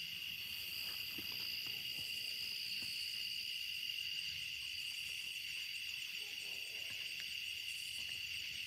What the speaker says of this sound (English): Oh yeah, crickets are terrible.